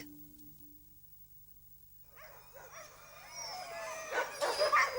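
Sled dogs in Alaska barking and yipping, starting after two seconds of near silence and building into a loud, busy chorus of overlapping barks and whines toward the end.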